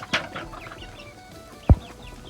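Ducks and chickens at a rural Thai home, with a couple of brief clucks from the flock, one loud and close near the end, over a faint outdoor background.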